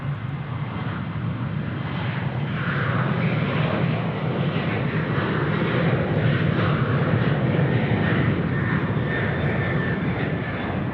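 A Velocity airliner takes off from runway 16 left at Sydney Airport, its jet engines roaring in a broad, steady rumble that swells after the first couple of seconds and holds strong, heard from a distance on the ground.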